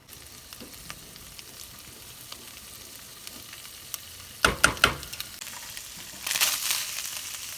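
Ground beef browns in a frying pan on a gas flame, a soft continuous sizzle broken by a few sharp scraping stirs midway and a louder burst of frying toward the end.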